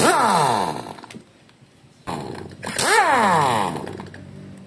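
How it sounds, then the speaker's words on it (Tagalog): A new Lotus 1/2 inch drive air impact wrench runs in two loud, close bursts, each spooling up and winding down, with a quiet gap between. "Bagong air impact"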